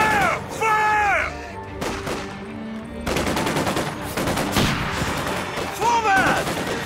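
Gunfire and machine-gun bursts in a Company of Heroes 2 tutorial battle, loud and dense over several seconds, mixed with short shouted voices and whistling effects.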